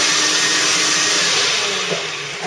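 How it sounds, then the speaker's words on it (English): HOST dry carpet cleaning machine running with a loud, steady whirring drone that fades toward the end as it shuts off, leaving small bumps. "I'm going to move the machine here, shut it off"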